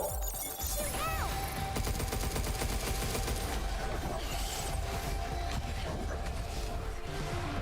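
Rapid gunfire bursts from the video game Pragmata, dense and continuous over a busy game soundscape with a steady electronic tone, loud and near throughout.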